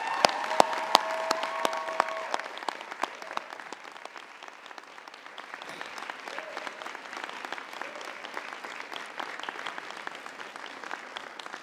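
A crowd applauds steadily, dense clapping sustained throughout with a few louder individual claps.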